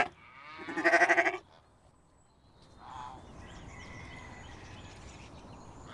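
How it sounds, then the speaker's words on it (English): A sheep gives one loud, wavering bleat lasting about half a second, close by, followed by faint quieter farm ambience with distant bird-like calls. "my name is Sheep, and I say"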